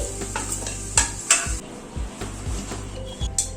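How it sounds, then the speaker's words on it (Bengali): Potatoes, fried red with salt and turmeric, lifted out of the pan: metal spoon clinks and scrapes against the pan over a light, steady sizzle of oil. "আলুটাকে লাল করে ভেজে নিলাম ভেজে তুলে নিচ্ছি"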